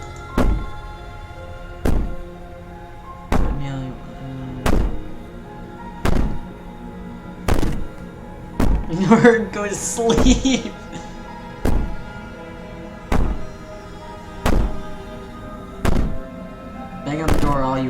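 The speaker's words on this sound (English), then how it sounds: "Bang on the door all you want, it'll only make you bleed out faster." Heavy, regular thuds of a door being banged on in Slay the Princess, about a dozen evenly spaced booming knocks, close and loud, with a voice speaking briefly midway between blows.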